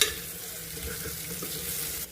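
Onions, green chillies, moong dal, ginger-garlic paste, turmeric and curry leaves fry in a pan with a constant close sizzle, no talk.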